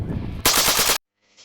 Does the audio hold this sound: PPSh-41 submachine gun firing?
yes